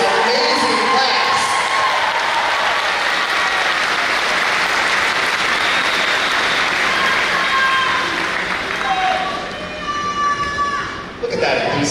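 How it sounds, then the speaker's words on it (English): A graduating high school class of 2023 receiving sustained applause from a large indoor crowd, loud and continuous with scattered cheers, fading out near the end. "How about one more round of applause for this amazing class?"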